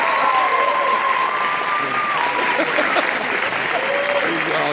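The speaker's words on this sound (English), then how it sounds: "Warm applause, guys." An audience applauds warmly, welcoming a teenager's family at an autism event, with steady sustained clapping throughout and some voices and a tonal sound mixed in.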